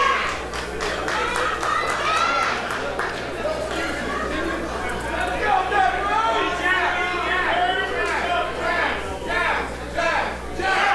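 Women's wrestling event crowd at SHINE cheering, clapping and chattering for wrestler Jazz against Sara Del Rey, a steady roar of many voices with whistles and shouts, a commentator talking over it throughout.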